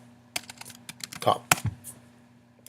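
Someone typing a web address on a computer keyboard, a quick burst of close, crisp key clicks in uneven rhythm with brief pauses between strokes.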